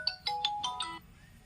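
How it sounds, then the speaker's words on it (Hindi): A mobile phone ringtone plays an incoming call from a sister, a bright electronic melody of about five quick chiming notes that fades out, heard alone in a quiet room. "अरे दीदी का फोन, दीदी फोन तो भाई याद करते रहे"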